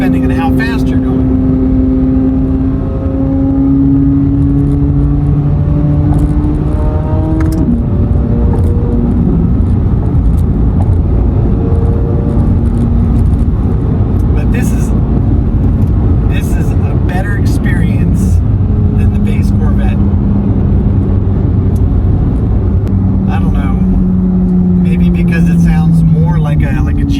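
A 2023 Chevrolet Corvette Z06 with the 3LZ package drives steadily, its engine a continuous drone with tones that rise and fall as it shifts through the revs.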